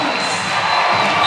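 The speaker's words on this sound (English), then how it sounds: "This crowd, large in number, drinking it in." Large arena crowd at a Hawaii men's volleyball match cheering after the Rainbow Warriors win a point against Grand Canyon, a dense, steady roar of voices that swells slightly toward the end.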